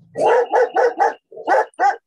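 A dog barks six times in quick bursts, loud and close, with a short pause before the last two barks and no talking.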